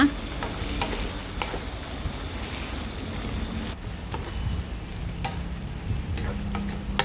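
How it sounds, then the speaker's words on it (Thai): A spicy Thai stir-fry of chicken with pickled bamboo shoots and holy basil sizzles steadily in a pan, with continuous frying crackle and the occasional scrape of stirring, and no voices. "ผัดต่อไป ขั้นตอนสุดท้ายเลยใส่ใบกระเพราลงไปค่ะ"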